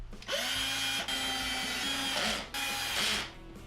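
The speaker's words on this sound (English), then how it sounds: "I'm going to go ahead now and attach the longer screws to the user interface to secure that in place." A power driver spins screws into a Whirlpool dishwasher door panel to secure the electronic control, in three bursts of whirring with brief pauses between them, close and loud, with no talking.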